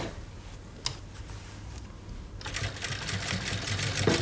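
A sewing machine stitches lining to a garment base, starting with a few faint clicks and then running in a loud, fast, steady whir of rapid needle strokes close by.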